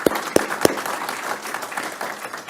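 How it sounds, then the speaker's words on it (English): Applause at a school board of education meeting, a few sharp nearby claps opening into a dense, steady round of clapping from the room. "So let's give her a clap."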